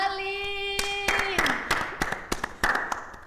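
A crowd at a school celebration for students heading to Bali breaks into scattered hand claps, with sharp irregular slaps rising over a sustained musical tone and background voices.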